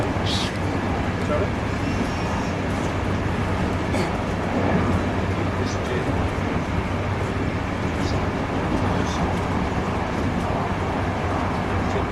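Train wheels roll steadily on the rails in Switzerland with a continuous loud rumble and faint rhythmic clicks, heard from inside a carriage.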